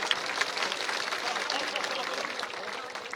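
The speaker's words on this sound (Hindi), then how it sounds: "मैं चाहूंगा एक बार पूरा जोरदार तालियों से आप भी स्वागत करें।" A crowd at a Nishad Party political rally in Amethi claps steadily and fairly faintly, with murmuring voices mixed into the applause.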